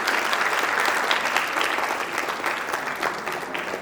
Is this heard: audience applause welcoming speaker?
yes